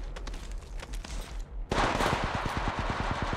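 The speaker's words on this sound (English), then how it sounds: "I am taking fire." Rapid automatic gunfire in Apex Legends Mobile, a dense burst of sharp close shots in quick rhythm that breaks in after a quieter stretch of game noise and keeps going to the end.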